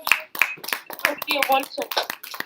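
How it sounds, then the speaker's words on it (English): A school class gives a short burst of applause, a few quick hand claps mixed with children's voices and chatter close by. "give him a round of applause, please, Mrs. Moussone's class."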